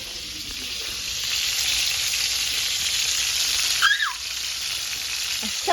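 Burgers fry in bacon and beef fat with a steady, close sizzle that swells slightly partway through, broken by a brief squeaky scrape near the end.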